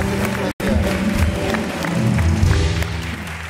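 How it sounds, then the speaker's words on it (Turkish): Studio audience applause on a Turkish TV talk show, a dense steady clapping wash with crowd noise that runs continuously, broken only by a brief cut near the start, with music or voices mixed underneath. "Alkışlar devam etsin lütfen"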